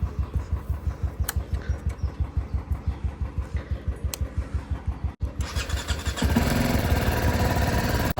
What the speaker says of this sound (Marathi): बाईकला कोल्ड स्टार्ट देऊन निघू